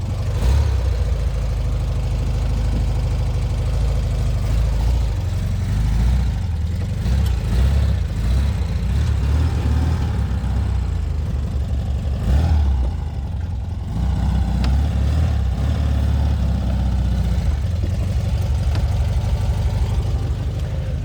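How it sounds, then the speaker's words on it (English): A 1967 VW Beetle air-cooled engine idles after a cold start, a loud, steady low throb with a slight rev rise midway, continuous and close. "She fires right up, huh? What a loud little motor."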